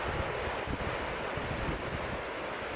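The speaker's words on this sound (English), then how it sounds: "More waves. This is a great beach." Ocean waves break and wash onto a beach in a steady, continuous roar of surf, with wind buffeting the microphone throughout.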